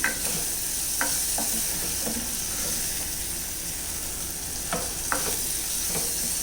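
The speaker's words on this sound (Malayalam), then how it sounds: "നമുക്കൊന്നും കൂടി ഇത് ഇളക്കിയിട്ട് കുറച്ച് നേരം കൂടെ അടച്ച് വെച്ച് വേവിക്കാം." Tomato and curd curry cooking in a pan, stirred with scattered scrapes and light knocks over a steady sizzling hiss, with no one talking.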